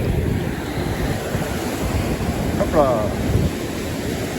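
Ocean surf rolls and breaks along a beach during surfcasting, a steady close wash of waves with wind buffeting the microphone, and a voice speaks briefly over it.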